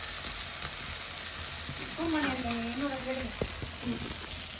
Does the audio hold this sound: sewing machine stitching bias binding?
no